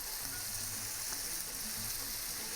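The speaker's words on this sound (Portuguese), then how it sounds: "Agora que ela já refogou legal, eu vou entrar com o caldo aqui. O caldo do cozimento." Beef rib ragù sizzles and bubbles in a pan as cooking broth goes in, a faint, steady frying hiss with no talking.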